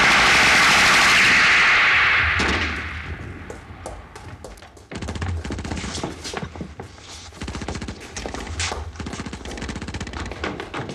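Gunfire in a wartime setting: an opening roar gives way to rapid, dense bursts of automatic shots and scattered bangs, loud and close, continuing throughout.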